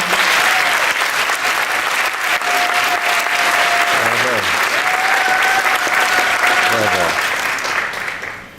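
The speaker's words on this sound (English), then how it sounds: "So let's give Uma a round of applause." An audience applauds a Kuchipudi dancer at her rangapravesam with loud, continuous clapping that holds for the whole stretch before easing off at the end, while steady tonal sounds run underneath.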